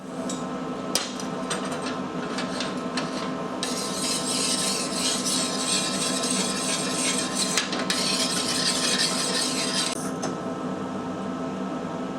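A homemade draw knife shaving green oak from a small oak tree gives a continuous rasping, scraping sound. Loud drawn strokes come in long runs over a steady background.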